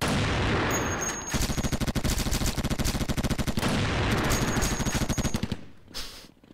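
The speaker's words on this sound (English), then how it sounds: "I think I'll switch back to that heavy machine gun just because it's really fun to use." A heavy machine gun in the shooter game KUBOOM fires a long, loud, sustained burst of evenly spaced rapid shots, dominating the scene before tapering off near the end.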